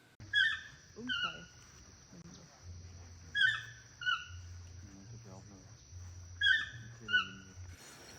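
Repeated bird calls in a Costa Rican rainforest, clear descending whistled notes in groups, over a steady background hum of insects and low tones, with faint rustling between calls.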